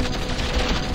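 Gunfire in the video game Battlezone Combat Commander, a brief, loud, rapid rattle of repeated shots running for about a second with a dull low thump midway.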